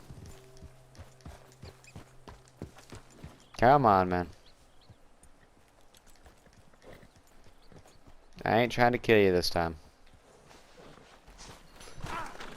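Two bursts of a Shire horse's whinny in the video game Red Dead Redemption 2, each a second or so long, separated by quiet, with someone talking and faint hoof clopping in between.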